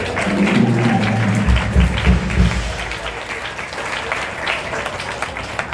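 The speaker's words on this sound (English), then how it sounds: "Let's give everyone a round of applause." Audience applause at a music festival fills the room, a steady wash of many hands clapping, with a low murmur of voices or music underneath at the start.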